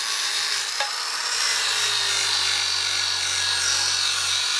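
A light power tool with a wire brush scours a Kawasaki motorcycle wheel during restoration, giving a continuous high, hissing whine with a low motor hum underneath, close and steady throughout.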